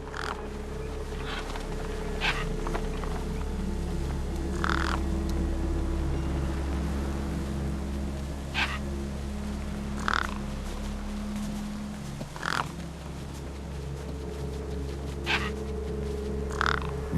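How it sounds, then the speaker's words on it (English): Birds squawk over a feast in the video game Beyond a Steel Sky, harsh cries breaking out every few seconds at a moderate distance over a steady low engine-like drone. "No way I was going to get between those birds and their feast."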